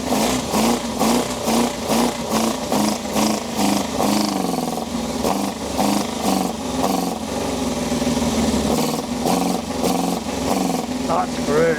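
A barn-find Yamaha FZR 600R motorcycle engine runs close by, revving in rhythmic pulsing bursts, then settles into a steadier running note, while people talk over it.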